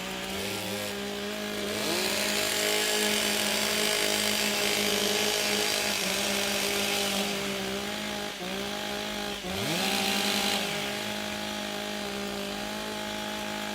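Several chainsaws at a STIHL Timbersports competition in Australia rev during warm-up, making a loud, buzzing, overlapping drone that swells into repeated high-pitched revs and drops briefly between them, with no talk.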